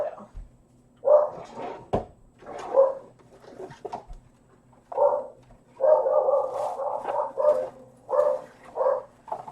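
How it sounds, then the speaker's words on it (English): A dog barks repeatedly and close by indoors, in irregular bursts of single barks and rapid runs, some overlapping one another. "Sorry about the dog."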